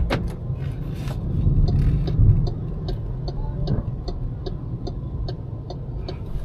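A car rolls along in electric mode, giving a low, soft interior rumble with a faint regular ticking, like an indicator, repeating over the hum; no engine roar is present.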